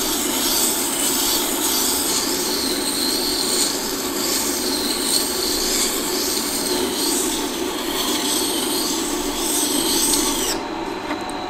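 A flat woodworking chisel is ground and sharpened on a grinder, a steady, bright rasping grind that runs continuously and close for the whole stretch, with no talk.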